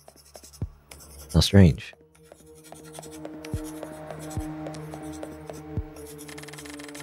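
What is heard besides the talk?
quill scribbling on old scraps of paper, from video game Pocket Mirror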